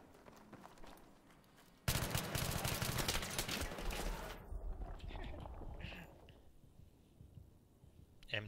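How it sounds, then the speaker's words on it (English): A P90 fires in the Battlefield video game: a loud, sustained burst of rapid automatic fire lasting about two and a half seconds, then fading into quieter in-game ambience and scattered distant noise. "P90. Got like a real rifle type sound to it."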